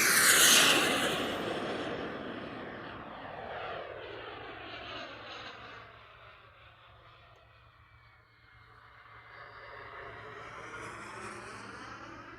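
An H9 MB339 V2 RC model jet makes a full throttle pass: a loud, rising jet roar that sweeps past with a strong Doppler pitch shift, fades as it moves away, then builds again toward the end.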